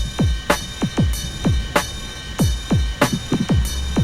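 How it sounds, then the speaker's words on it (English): A punchy Y2K big beat drum pattern with deep booming kicks and sharp snare hits, a steady metallic ride cymbal shimmer ringing on top. "On top of that, we're going to add a ride."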